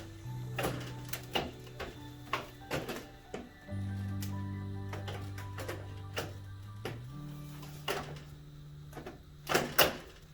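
Metal panel on a Nuova Simonelli Aurelia Wave espresso machine slid back into place: a run of close, sharp clicks and scraping knocks over a steady low mechanical hum, with a louder clatter near the end.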